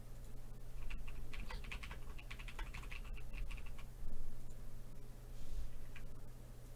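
Typing on a computer keyboard in a quiet room, with steady clusters of soft key clicks that come in quick bursts and pauses over a low constant hum.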